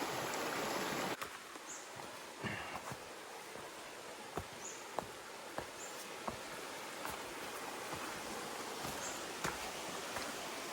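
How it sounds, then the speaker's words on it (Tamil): A small, clear forest stream flows near the Nagalapuram and TP Kota waterfalls trek in Andhra Pradesh, a soft steady wash of water under scattered clicks and rustles, with no talk. "இது ஃபால்ஸ் இல்லை, ஏதோ சின்ன ஒரு ஸ்ட்ரீம்,"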